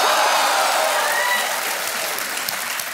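Studio audience applause on a televised quiz show, loud continuous clapping from a large crowd that fades slightly toward the end.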